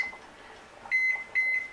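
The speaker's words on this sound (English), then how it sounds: "I'm going to turn on the timer for" A kitchen timer gives two short, sharp high beeps close by while it is set on a stove where potatoes boil, with faint background noise between them.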